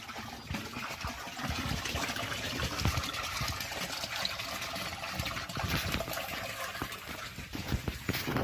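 Water running into a tank and leaking through wall cracks, a steady trickling and splashing flow that stays fairly even throughout, faint and continuous.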